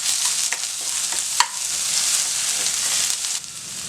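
Crushed garlic sizzles and crackles steadily as it fries in oil in a pan, with a few clinks and stirring scrapes, close up and without speech.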